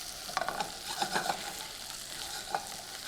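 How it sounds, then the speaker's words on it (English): Chopped garlic, about three large cloves, cooks in a pan with a steady soft sizzle, broken by a few light stirring scrapes and clicks near the start and once more toward the end. "Just cook it for a minute, just until the garlic starts to cook."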